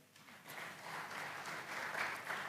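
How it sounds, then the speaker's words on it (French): Applause from the audience at a padel Grand Prix award ceremony, quiet and somewhat distant, building over the first second into sustained clapping from many hands with no talk over it. "Applaudissez pour vous-même"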